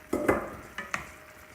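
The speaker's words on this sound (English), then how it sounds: "Let's put it into the frying pan, all right?" Broccoli rabe, sausage and macaroni hit a hot frying pan with a short sizzle and a few stirring scrapes, two quick pairs of bursts that fade into a soft crackle.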